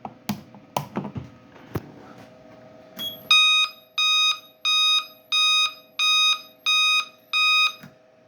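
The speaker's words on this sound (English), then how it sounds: "we'll do 2400 interrupted" An interrupted electronic alarm tone sounds as seven loud, even, high-pitched pulses with short gaps between them, preceded by a few clicks and knocks.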